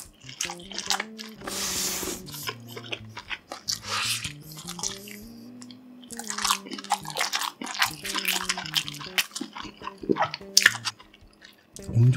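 Close, wet chewing of a springy homemade cheese stick made with shrimp, with repeated bites and squishy mouth sounds and brief soft speech in between.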